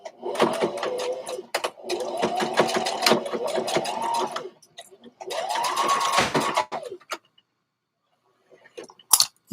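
A sewing machine runs zigzag stitches over a tuck in fabric during pattern drafting, with several buzzing runs separated by short pauses and a final quick burst after a silence.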